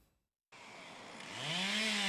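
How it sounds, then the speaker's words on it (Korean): Chainsaw cutting through a large cedar over 10 m tall during roadside tree felling for a road-widening project, starting abruptly after brief silence and running loud and steady, its pitch climbing as the engine revs harder. "요란한 전기톱 소리와 함께 10m가 넘는 커다란 삼나무가 힘없이 쓰러집니다"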